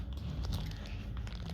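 A crisp crunch comes from biting into an apple cinnamon Quaker biscuit, with close, dry crackling bites and chewing, no talking.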